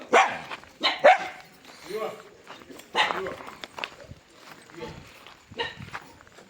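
Dogs bark in a few sharp, close bursts during a trip for the Shimga festival, mixed in with people talking and some footsteps or hoof-like clopping.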